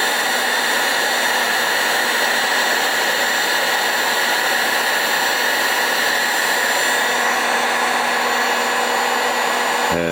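A heat gun blows a steady, loud hot-air roar while shrinking heat-shrink tubing over a wire during a car stereo install in a 1999–2004 Jeep Grand Cherokee, holding constant for about ten seconds with no talk.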